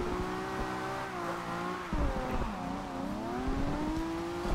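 A Nissan Skyline 2000GTR in the racing game Forza Horizon 2 drives on a drift build, its engine droning steadily with pitch dips and rises as it shifts and revs, with faint tyre noise.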